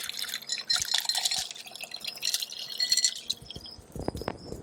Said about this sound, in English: I'm going to strain.